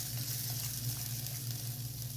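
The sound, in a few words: masala roasting in oil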